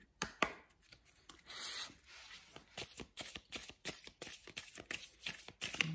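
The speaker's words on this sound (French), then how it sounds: "Je mélange mes cartes." Tarot and oracle cards being shuffled by hand at close range, a rapid, uneven series of papery riffling and rubbing bursts with short pauses between, no voices.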